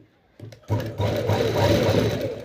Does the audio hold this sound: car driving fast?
no